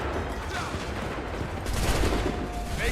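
Musket fire crackles and booms in Assassin's Creed 3, with layered shots in a continuous battlefield din, heavier near the end. No voices stand out.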